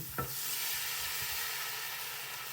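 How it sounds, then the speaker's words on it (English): Beef pot roast deglazed with red wine in a pot, a steady soft sizzle and hiss with a brief sharper burst near the start, then a continuous low bubbling fry with no voices. "I'm gonna deglaze with some red wine"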